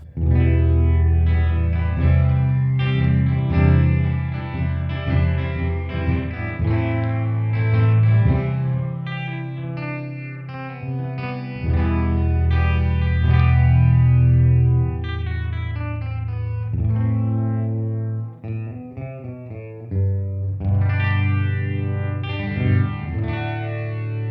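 Electric guitar played through an EHX Poly Chorus pedal with the sweep rate turned all the way down, sustained chords and notes with a slow, gentle chorus wobble, loud and continuous with no talking.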